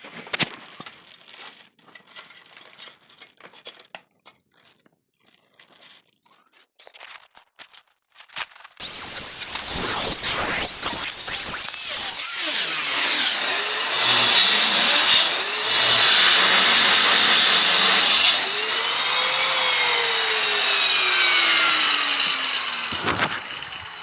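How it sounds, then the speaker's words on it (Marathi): A circuit board is cut to size with a power tool: after quiet handling, a loud, steady cutting whine starts, rising and falling in pitch for about fifteen seconds, close and continuous. "झालेलं आहे आपलं बोर्ड कटिंग करून"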